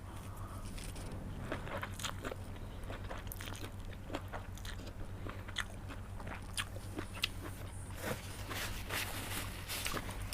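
Someone eating a spicy Thai yum salad with hard-shelled snails, with steady close crunching, biting and chewing over about ten seconds and a low steady hum underneath, no talking.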